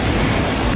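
A subway train in Seoul rumbles steadily with wheel noise and a faint high squeal throughout, close and continuous, with no talk.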